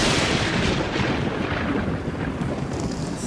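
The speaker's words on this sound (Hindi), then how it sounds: "ये तूफान आज तो जान ले लेगा।" Heavy rumbling thunder of a storm, loud and continuous, with a dense roar like rain or wind running through it, alone with no voices.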